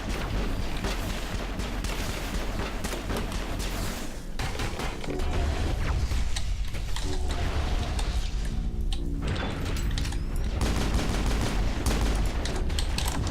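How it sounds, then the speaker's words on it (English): Sustained gunfire from a squad firefight in the video game Mass Effect, dense overlapping shots and bursts running continuously at a loud, steady level with game effects layered in, and no talk. "Liara is happy to shoot"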